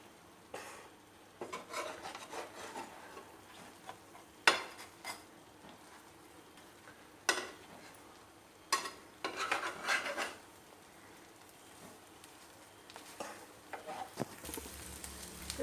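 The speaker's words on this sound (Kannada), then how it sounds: "ಸರಿ ಫ್ರೈ ಆವೊಂದು" A burger bun fries on a hot tawa and gets turned with a spatula, giving soft, continuous scraping and shuffling with several sharper clatters of metal on the pan, steady and fairly close, no speech.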